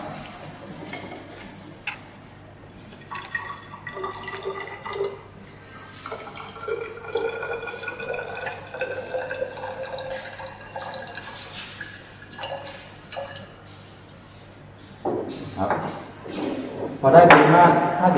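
Hot distilled water, about 50 ml, trickles and drips into a container in a chemistry experiment on acid-base reaction enthalpy, a thin liquid pour with faint ringing tones, ticks and clinks, while someone talks over parts of it.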